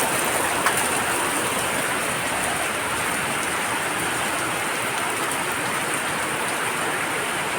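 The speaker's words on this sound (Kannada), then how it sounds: "ಸಂತಸ ತಂದ ಈ ಮಳೆ." Heavy rain from a low-pressure system pours down in Mangaluru, as a dense, steady hiss of drops on surfaces and water that barely changes in level across the clip, with no voices.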